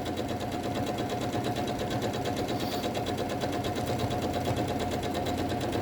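A sewing machine stitches a quilt at steady speed, a dense, even mechanical whir with a fast rapid rhythm running continuously and fairly loud throughout, close by with no talking.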